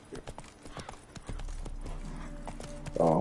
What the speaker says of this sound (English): This is why I don't like riding the horse every so often